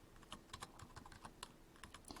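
Quick, uneven bursts of typing on a computer keyboard as numbers are entered, crisp close key clicks in irregular clusters with brief pauses, no voices.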